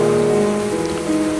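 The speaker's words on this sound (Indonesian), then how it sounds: "hujan ini membawa berkah" Rain falls on farmland, a steady hiss of drops pattering on surfaces, fairly loud and continuous, with a low humming tone running underneath and no talking.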